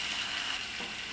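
Onion, garlic and ginger paste sizzles steadily in hot oil, a dense close frying hiss that runs unbroken with a slight stir partway through.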